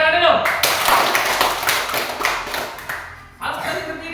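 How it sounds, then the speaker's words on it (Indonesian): A group of people clapping their hands during a school physical education class, a dense burst of close applause lasting a few seconds with a voice speaking briefly at the start. "Tepuk tangan dulu."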